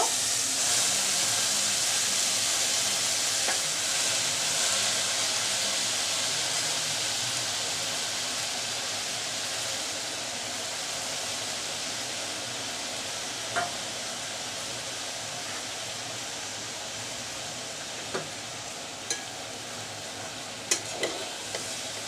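Radish greens cook in a pan with a soft steady hiss and sizzle that slowly fades, with a few sharp clinks of stirring toward the end, and no talking.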